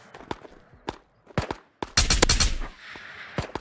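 Gunfire in the VR shooter Ghosts of Tabor on an island map: sharp separate shots at varying distance, then a loud close cluster of rapid shots with a fading echoing tail.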